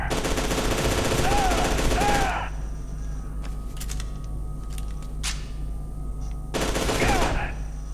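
Machine gun fire in the shooter game F.E.A.R. 2: Project Origin, loud sustained bursts for a couple of seconds, then a quieter stretch with scattered impacts before another heavy burst returns.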